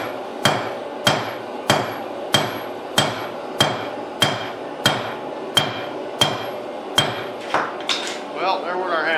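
Hammer forging steel for a knife or chopper blade: about a dozen loud, evenly spaced ringing blows close by, each with a sharp metallic clang and short decay, ending in a brief scrape.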